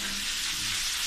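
Milkfish frying in oil in two pans at once for catering, a dense, loud, steady crackling sizzle heard close up without any talk.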